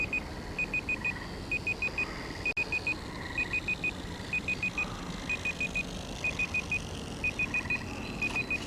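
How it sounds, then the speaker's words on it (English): A seven-minute timer beeps in steady groups of three or four quick tones, repeating over a constant background rumble of wind and the motor of a Harbor Freight P-51 RC plane. "That beeping you hear behind me is a timer I had set for 7 minutes."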